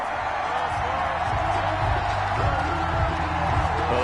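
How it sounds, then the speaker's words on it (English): Football video game crowd, a dense, steady roar of stadium noise with a low rumble underneath, sounding displeased throughout. "Well, the crowd doesn't like that."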